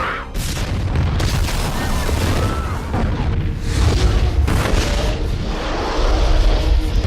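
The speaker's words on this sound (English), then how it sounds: "Fake looking explosions, by the way. Like, just look at this bomb going off." Loud, dense cinematic explosions from the movie The Marine 2 boom one after another, with rumbling blasts and crackling debris filling the whole stretch, no talking.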